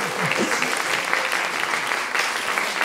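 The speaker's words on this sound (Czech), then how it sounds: "Zatleskáme Vítkovi" An audience at a student short-film awards ceremony in Pardubice claps steadily for a young filmmaker, a dense, even round of applause lasting the whole stretch with faint voices beneath.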